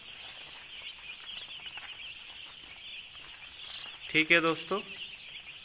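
Second-day commercial broiler chicks on a poultry farm fitted with brooding heaters, chirping steadily as a high background chorus, with a short burst of nearer, louder calls and some speech near the end.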